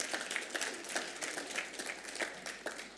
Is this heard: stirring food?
no